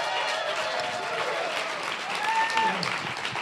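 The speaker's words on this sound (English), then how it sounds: "let's make a massive round of applause to start for Dr." An audience gives a sustained round of applause, dense clapping that fills the room continuously from start to end, with a few faint voices mixed in.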